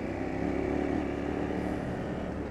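A CFMoto 450MT motorcycle on a short ride gives a steady, loud engine drone with continuous wind and road rumble, holding an even level throughout with no pauses.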